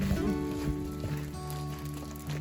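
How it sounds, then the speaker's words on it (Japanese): Rain falling on a mountain slope where muddy water is running off, a steady soft patter and hiss with no pause, close and moderately quiet. "いい雨なんじゃないの？"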